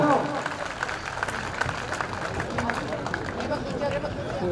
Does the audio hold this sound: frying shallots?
no